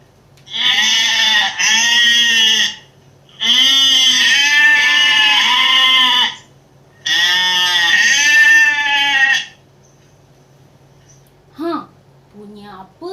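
A goat bleats loudly and close in several long wavering calls separated by short pauses, followed by faint brief sounds.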